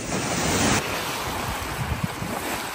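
Adriatic Sea waves surging against a shore, a loud, steady wash of surf mixed with gusty wind buffeting the microphone, with no voices.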